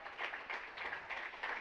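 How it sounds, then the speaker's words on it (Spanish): A church congregation applauding, a brief patch of steady clapping at moderate distance with no voices over it. "Dale un aplauso al Señor."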